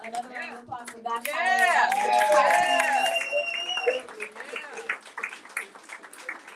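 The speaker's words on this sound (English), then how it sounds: "Another round of applause for that." Audience applause at a discussion event on Sterling Brown, a swelling mass of clapping with cheers and voices mixed in that rises, holds for a couple of seconds, then tapers off into scattered claps.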